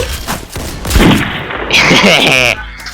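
A police-side gun in the game Counter Blox fires loud, close volleys of gunfire with thumping impacts, mixed with excited talking in Thai.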